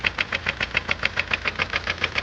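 A Hyundai i20 engine with a worn connecting rod knocks in a fast, steady metallic rhythm, about six sharp taps per second, close and loud over a low running drone, with no voices.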